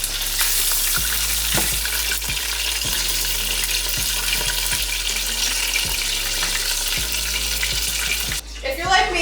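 Wild turkey breast fries in a pan of hot oil, making a loud, continuous close-up sizzle with occasional sharper spits and crackles before it briefly eases off at the end.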